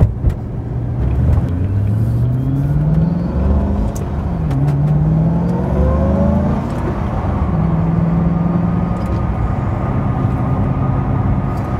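A 2006 Ford GT supercar engine roars as it accelerates, the pitch sweeping upward through gear changes over a steady loud rumble.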